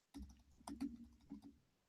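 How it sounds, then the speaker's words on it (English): A few quiet, close keystrokes on a computer keyboard tap out in an irregular burst during a live-stream interview, with a low hum beneath. "I'm just typing some trollish type shit in the chat"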